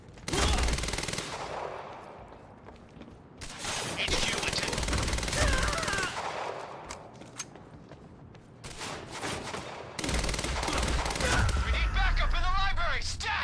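Rapid automatic gunfire dumping a full magazine in the shooter game Quantum Break, loud sustained bursts separated by short pauses, with game voices and effects mixed between the volleys.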